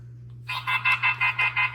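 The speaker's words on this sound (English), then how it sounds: "That's the alarm," Anti-theft alarm on a smart video door lock sounding as a rapid series of about eight loud, close electronic beeps in a steady pulsing rhythm.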